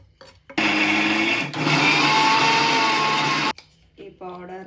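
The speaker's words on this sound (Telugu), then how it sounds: "వీటిని అన్నీ మిక్సీ పట్టాలి కలిపి." A mixer grinder roars in a loud, continuous burst of about three seconds, briefly dipping in the middle, while grinding garlic, cumin, salt, curry leaves and chili powder; a voice speaks briefly at the end.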